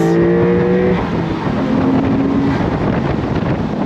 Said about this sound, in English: Just the sound of a flat six.